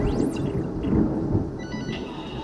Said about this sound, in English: I don't know if you can hear the thunder, but there's a thunderstorm